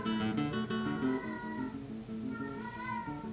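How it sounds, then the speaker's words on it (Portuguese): Several house cats meow back and forth indoors, drawn-out tonal cries overlapping one another against a quiet room background, fairly close, with no speech. "E meus gatos estão conversando"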